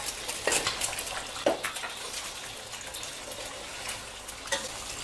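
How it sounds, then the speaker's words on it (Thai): Eggs drop into hot oil in a pan for a stir-fry with glass noodles, setting off a steady moderate sizzle. A few clinks and splashes mark the start, then the frying hiss runs on at an even level. "น้ำมันร้อนได้ที่เราก็ใส่ไข่ลงไปค่ะ"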